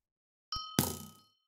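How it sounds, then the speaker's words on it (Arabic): A bell rings in the Minecraft video game: one short chime followed by a louder, brighter clang that rings out and fades over about half a second, with no talk. "اوه شبعنا الجرس يا جدعان."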